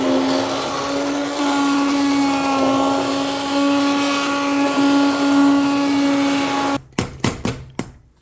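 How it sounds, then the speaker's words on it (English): A blender purees bean soup with a loud, steady motor whine, then cuts off into several short stuttering bursts and knocks as it stops and starts. "I'm going to blend mine creamy just because my kids don't love the beans in the soup."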